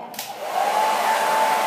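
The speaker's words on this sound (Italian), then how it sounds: "Inizio col phon." A hair dryer starts up and blows steadily and loudly at close range, a continuous whooshing roar with a faint motor whine and no talking.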